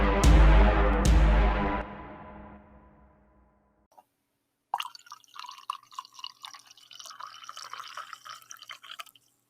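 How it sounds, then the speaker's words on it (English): Coffee pours in a steady liquid stream that tapers off and stops, followed after a short pause by lighter dripping and trickling sounds, close and fairly clear with no talking. "There probably is already a built-in coffee pouring sample in Anchor."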